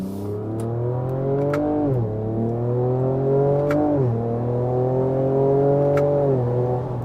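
A Ford Ranger Raptor truck engine revs hard toward its roughly 6,400 RPM redline. The pitch climbs steadily, then drops at gear shifts about every two seconds. It is loud and close, with no talking.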